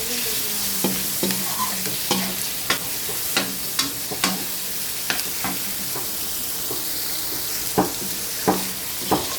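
Tender meat sautéed and stirred in a pan for pancit bihon: a steady close sizzle broken by irregular sharp scrapes and clicks of a utensil against the pan, with no talking.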